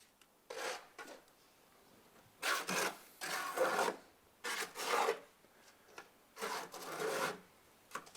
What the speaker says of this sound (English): taking off the long end of the trowel and running it down onto the hook there, just to plasticize the lime a little